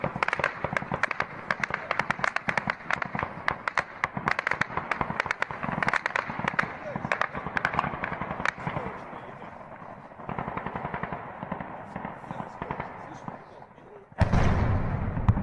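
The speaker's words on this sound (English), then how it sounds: "And there's the sound of the explosion we saw on the security camera a second ago." Drone strike explosions on a military airfield, caught on security camera footage: rapid rattling bursts of cracks and bangs like firecrackers, a dense crackling stretch, then a louder heavier blast near the end.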